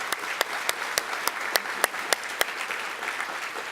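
A live conference audience applauds the event's planners, a steady wash of many hands clapping with sharp individual claps popping out roughly every third of a second, moderately loud and without talk.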